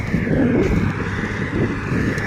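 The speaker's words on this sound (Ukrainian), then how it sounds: "наш ХТЗ із дисками Тавроса" A KhTZ tractor pulls a Tauras 3.4 disc harrow across a field being disked before sowing, giving a steady, loud low engine drone mixed with wind buffeting the microphone.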